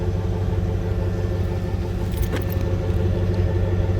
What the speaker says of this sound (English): Truck sounds really good.